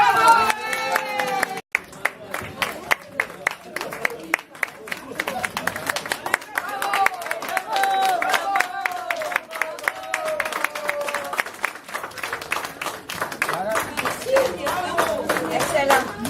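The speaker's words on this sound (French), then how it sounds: "faut les applaudir encore" An audience applauds performers after a staging of the play La Cantatrice chauve, steady dense clapping going on for a long stretch while voices talk and call out over it.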